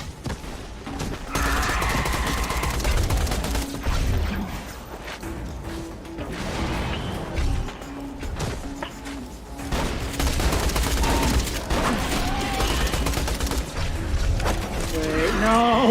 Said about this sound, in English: Jamie, I hold down the button and then the bullets just leave my gun and like it has like no kick